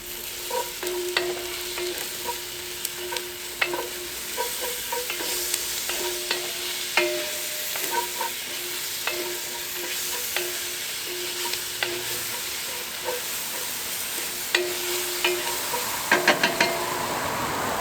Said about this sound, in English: You want to make sure you stir that garlic through straight away so it doesn't burn